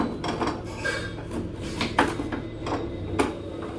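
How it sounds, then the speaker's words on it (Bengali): A knife chops an eggplant for frying, giving a series of sharp, irregular knocks on a board close up among faint kitchen clatter. "তো ওখানে বেগুনটা আমি কেটে নিচ্ছি।"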